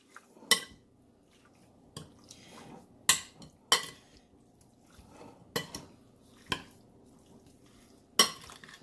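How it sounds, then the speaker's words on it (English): Tripe and curry powder being stirred in a bowl for Jamaican tripe with butter beans, with sharp, irregular clinks and clacks of a utensil against the bowl amid soft scraping, close and without talk. "Okay, give this a nice stir."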